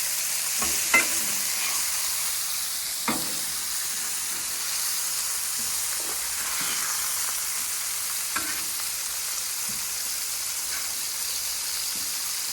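Burgers frying on a hot surface give a steady, close sizzle and hiss, with a few faint clicks and taps as they are flipped, and no talking.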